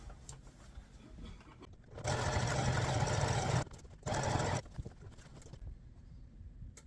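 A sewing machine stitches around a number on a CCM hockey jersey in two short bursts, fairly close, over a low room background with faint handling noise.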